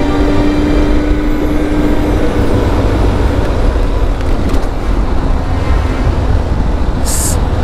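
Steady, loud road and wind roar from a motorcycle cruising at 80 km/h in eco mode, a continuous drone with no breaks and a faint high whine near the end.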